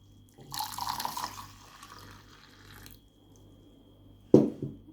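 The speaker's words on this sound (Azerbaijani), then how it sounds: "Və bu qaynamış suyu əlavə eləyirəm boş qabın içinə." Boiled water poured into an empty container holding a spoonful of flax seeds, a short splashing pour of about two seconds, then quiet and a sharp clatter near the end.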